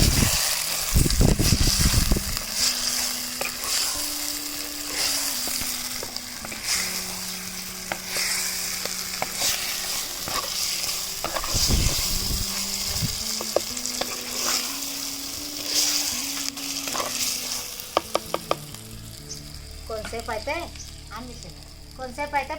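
Chicken pieces fry and sizzle in a hot pan for a cooked chicken curry, a steady crackling hiss broken by stirring scrapes and clanks, with a humming tone running underneath and no talk.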